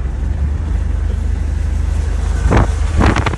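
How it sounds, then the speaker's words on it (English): Failing engine in a BMW E93 328i about to throw a rod, a low rough drone with wind noise, then two sharp loud bursts near the end. "We had an engine that ejected a rod."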